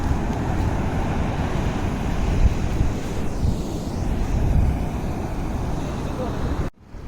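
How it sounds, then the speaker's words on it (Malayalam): Rough sea surf pounding the shore at Payyoli beach, a loud continuous roar of breaking waves with wind buffeting the microphone throughout, cutting off abruptly near the end. "ഇതുണ്ടോ കടൽ നല്ല അടിയാണ്"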